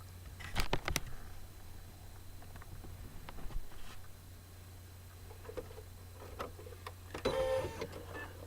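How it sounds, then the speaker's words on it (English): An embroidery machine stitches an appliqué Valentine's Day coaster in the hoop, with a steady low motor hum, rapid needle patter and a few sharper mechanical clicks, heard close with no talk. "you can actually watch the machine stitching"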